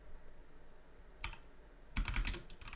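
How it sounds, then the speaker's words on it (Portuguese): Keys tapped on a computer keyboard while entering an npx Prisma init terminal command for a Node.js and Docker development setup: a brief burst of clicks, a pause, then a denser flurry of keystrokes, close and fairly quiet. "a gente vai digitar npx"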